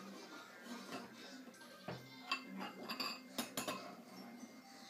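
A metal spoon clinks and scrapes against a cup while stirring Easter eggs: quiet, irregular taps that grow into a few sharper clinks near the end, with no talking.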